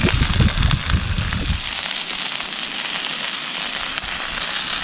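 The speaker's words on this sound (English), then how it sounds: "that big old cheeseburger is cooking away" Steady, dense sizzling of a cheeseburger frying on a hot griddle inside a 1968 Airstream trailer, with heavier crackle and low rumble in the first second and a half, no voices.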